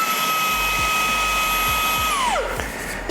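A Fanttik Slim V8 Apex handheld vacuum runs on its high setting with a steady, close, high-pitched motor whine. The whine drops sharply in pitch as the motor spins down near the end.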